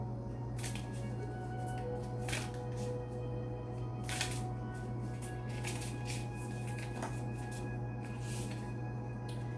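Moonology oracle cards are shuffled by hand in repeated soft riffling bursts over a steady low background hum, with no voices.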